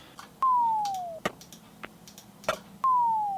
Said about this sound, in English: Just little sounds like this, little pops.